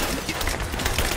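Gunfire from the video game Rise of the Tomb Raider: a dense, continuous burst of rapid shots crackling across the full 1.2 seconds at steady loudness, with no talking over it.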